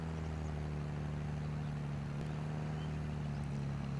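A tractor engine in Farming Simulator 23 strains up a small slope, giving a loud, steady, low droning hum with a constant rumble that runs unbroken throughout, with no voices.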